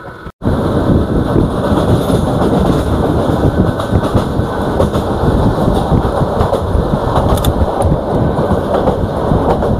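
The Mahanagar Express train from Dhaka to Chittagong, heard from onboard: a loud, steady rumble of wheels on track with rhythmic clickety-clack, sustained throughout after a brief cut at the start, no talk.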